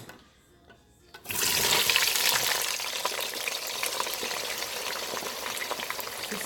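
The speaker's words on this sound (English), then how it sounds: "I'm going to add in all the fresh vegetables to the oil and fry it for about 15 minutes" Fresh vegetables dropped into hot oil for Ghanaian shito chili sauce, a quiet moment followed by a sudden loud, bright sizzle that settles into steady, crackling frying close by.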